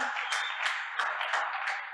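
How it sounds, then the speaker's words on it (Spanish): Applause from an audience at a church talk, a steady wash of many hands clapping at moderate volume, continuous throughout with no voices over it. "Un aplauso para Maggie."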